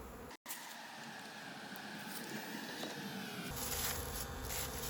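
Honey bees buzz at the hive in a faint, steady drone with a brief dropout near the start, the hum thickening slightly toward the end.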